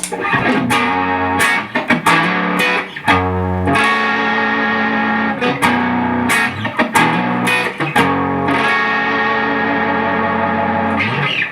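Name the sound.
electric guitar with dirt pedal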